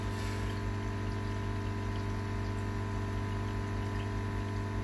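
A pond drum filter backwash spray bar runs water back into the drum, a steady, continuous rushing hiss with a pump hum beneath, close and unchanging throughout.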